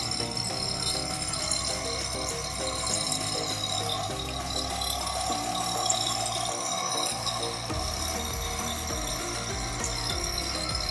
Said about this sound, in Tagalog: Medyo mahina lang yung pump. Pero okay na yan kasi solar naman yung ginagamit ko.